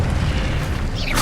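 A fire spell cast in the video game Hogwarts Legacy, a dense roaring blast that builds to a bright whooshing burst at the end, loud and close, with no talk.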